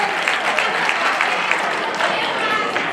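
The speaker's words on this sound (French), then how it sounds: "Ça, on applaudit les Baoulés." A hall audience applauds the Baoulé people during a contest final, a dense, steady wash of clapping filling the whole stretch with a few voices mixed into the crowd.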